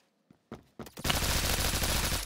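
Video game gunfire: a few isolated shots, then a sustained, loud automatic burst that continues steadily to the end with no talking.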